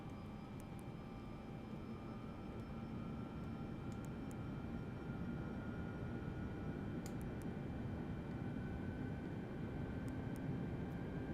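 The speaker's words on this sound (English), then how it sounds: "We're going to take off from 17 left." An airplane in Microsoft Flight Simulator 2024 on PS5 hums with a steady engine drone and faint rising tones as it prepares for takeoff, with small clicks over the continuous sound and no speech.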